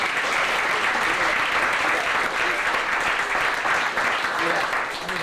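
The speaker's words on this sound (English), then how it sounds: "Let's give a round of applause" A lecture audience breaks into loud, dense applause that fills the room without pause for over five seconds, with voices mixed in beneath the clapping.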